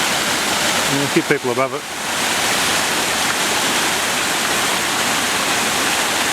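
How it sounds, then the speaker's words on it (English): Steady rushing water of a small waterfall in a gully, constant and close, with someone briefly speaking over it near the start. "Not a bad little waterfall."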